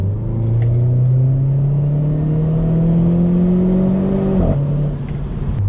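A Renault Clio 4 RS accelerates hard, its engine note climbing steadily in a loud, close rising drone for several seconds before a sharp shift drops the pitch, with no one speaking.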